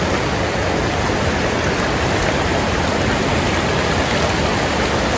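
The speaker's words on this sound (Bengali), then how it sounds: "চলে এসেছি দুধগঙ্গা নদীতে।" Dudhganga river in Yousmarg valley, Kashmir, swollen after rain, rushing over stones in a loud, unbroken roar of water heard up close and alone.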